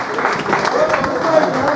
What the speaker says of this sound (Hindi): एक बार जोरदार तालियों से उनका इस्तकबाल कर दें